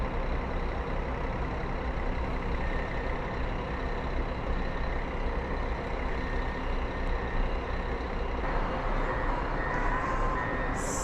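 An Ouro e Prata G7 1350 bus pulls out of the Goiânia bus station in a long, steady diesel drone with rumbling station noise, and a faint beep or hiss sounds near the end.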